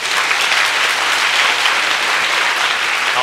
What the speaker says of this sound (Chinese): 大家给这些讲者一个掌声好不好